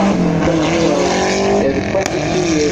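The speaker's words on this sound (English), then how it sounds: "It's the X-Works Rally Car X, driven by Kankanen today." A 1990 Group B X-Works rally car driven by Kankanen on the Château Impney hillclimb, its engine loud and close, revving and rasping steadily as it powers along.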